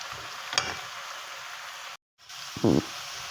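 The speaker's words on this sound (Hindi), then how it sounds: "अब फिर इन्हें फ्राई होने दूंगी" Brinjal slices fry in a pan with a continuous moderate sizzle, broken by a brief silent gap and a short louder scrape near the end.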